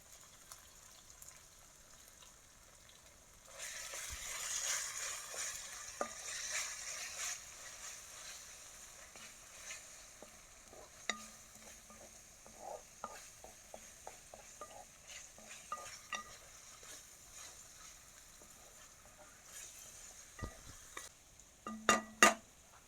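Coconut paste and garlic paste stirred in a frying pan, with a gentle sizzle and wet scraping, then scattered light clinks and taps of the spoon against the pan; no voices.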